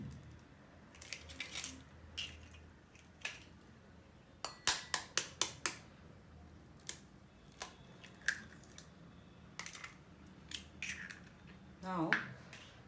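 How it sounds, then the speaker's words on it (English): Two eggs are cracked into a bowl for a French toast egg mixture, giving a run of sharp, close taps and cracks around the middle, with scattered clicks and a wet squish toward the end over quiet room noise. "I've taken 2 eggs here, so I'll just crack them into the bowl"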